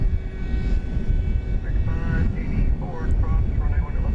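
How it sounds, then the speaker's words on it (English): An MD-11 jet takes off at night from DFW Airport, a steady, loud engine roar filling the whole stretch, with faint voices mixed in beneath it. "So we're 3 for 3 on MD-11 takeoffs here tonight."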